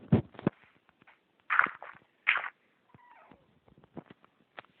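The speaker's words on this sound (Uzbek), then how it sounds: "Miyovlashni eshitdinglar mushukni." A cat meows several times in short, separate calls, fairly close, with quiet shuffling and small knocks between them.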